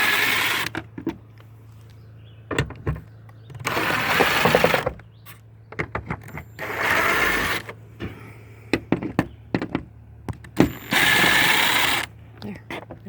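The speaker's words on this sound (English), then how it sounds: "I take my impact, put it on reverse," An impact driver running in reverse backs screws out of wooden shutters in three short, loud whirring bursts, separated by gaps with talking in between.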